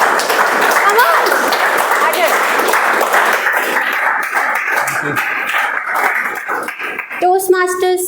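Applause from a Toastmasters meeting audience greets the next speaker, loud and full at first, then thinning out before voices and a brief tonal sound come in at the end.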